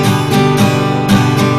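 Full six-string guitar strums, each stroke ringing across all strings, about four strokes in quick succession, close and loud with no talking.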